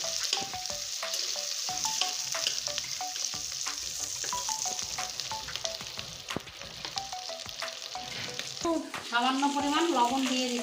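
Soybean chunks, potatoes and onion slices fry in hot oil in a pan, hissing and crackling steadily up close, with scattered clinks from stirring and a louder burst of sizzling near the end.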